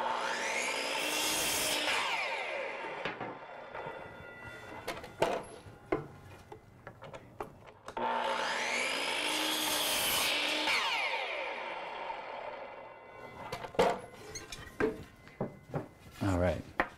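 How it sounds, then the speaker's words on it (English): A power saw in a garage cuts wood pieces to length for yard games: two loud rising-and-falling cuts of several seconds each, separated by clattering boards, handling noise and someone talking. "first thing we're gonna do is cut a couple of pieces at"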